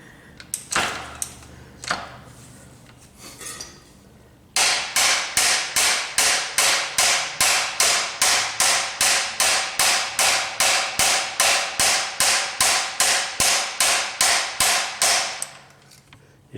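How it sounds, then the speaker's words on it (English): A hammer strikes the kickstarter of a motorcycle with a stuck engine, first a few scattered knocks, then a long run of about thirty loud, evenly spaced metallic blows close by. "You should always use a hammer on your Kickstarter."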